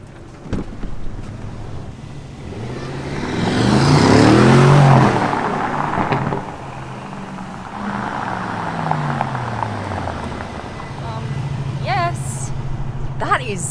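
An Aston Martin SUV accelerates hard, engine note rising to a loud close roar with wind rush, then settling into steady driving noise while people talk over it.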